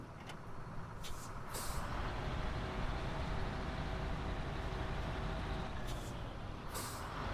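An 8x8 truck in Snowrunner starts up with a hiss of air release, then a steady low engine idle rumbles on, with another sharp pneumatic hiss near the end; fairly quiet overall.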